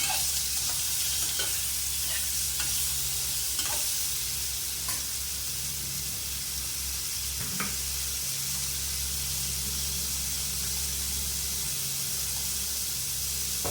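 A potato mixture being stirred and mixed in a hot frying pan, with a steady close sizzle and hiss and intermittent scraping strokes of a spoon throughout.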